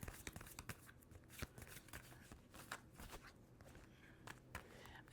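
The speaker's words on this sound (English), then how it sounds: "I just cut the deck and pull." Crisp riffling and snapping of a tarot card deck being shuffled, followed by soft slides and taps as the deck is cut, close and fairly quiet.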